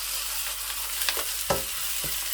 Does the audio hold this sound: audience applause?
no